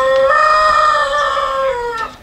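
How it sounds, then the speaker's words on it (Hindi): Araucana chickens on a poultry farm give a loud, close rooster crow that holds steady for about two seconds, with a short cluck near the end and no voices. "ये जो मुर्गियाँ इस वक्त हम देख रहे हैं बट साहब"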